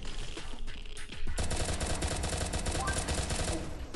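Rapid automatic gunfire from the mobile shooter game Pixel Gun 3D, a dense, loud burst of shots running almost continuously, with a short pause before a sustained volley.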